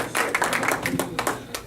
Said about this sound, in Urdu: ایک دفعہ دوبارہ آپ کی تالیاں چاہیے مجھے جناب آصف عزیز صاحب کے لیے